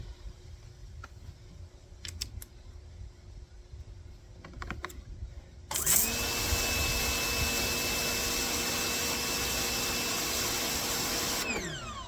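Simoniz Compact 1800 PSI pressure washer spraying through its 0-degree nozzle: after a few faint clicks, the motor kicks in with a steady loud whine and hiss that runs unbroken to the end.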